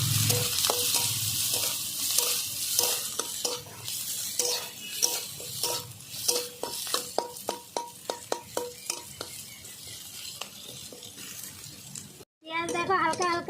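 Three sliced onions and five long-cut green chillies fry together in oil, making a continuous sizzle with frequent scraping stirs of a utensil against the pan. A voice talks over the cooking, and a short silent gap comes near the end.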